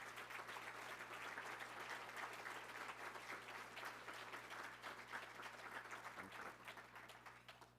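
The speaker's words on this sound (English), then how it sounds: "Give them a round of applause." A large audience at a regional economic development annual meeting claps steadily in a sustained, even round of applause that holds at a constant level without voices above it, then tapers slightly at the end.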